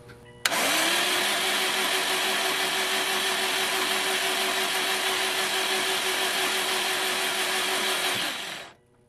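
An oil pump priming the oil system of a Subaru Impreza build whirs into a steady, loud electric drone, holds an even pitch for about eight seconds, then winds down and cuts off.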